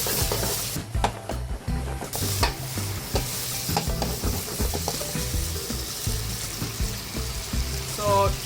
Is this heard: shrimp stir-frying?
yes